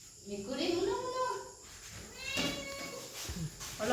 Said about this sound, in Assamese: মেকুৰী শুনো শুনো